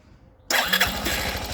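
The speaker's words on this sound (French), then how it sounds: "Et le scooter tourne correctement." A 2007-or-later Suzuki Burgman 125 scooter with a newly replaced starter motor cranks after a short quiet lead-in. It catches abruptly and settles into a close, steady idle with a rapid pulsing beat.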